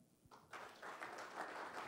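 Scattered audience applause from a small crowd at a comedy talk, a brief burst of clapping that swells and carries on steadily for under two seconds with no voices over it.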